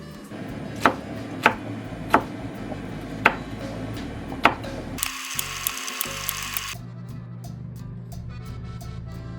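A knife chops garlic on a board in a home kitchen, landing about six sharp, evenly spaced strikes over a few seconds. Steady background noise runs underneath, and then a hissing sound cuts in.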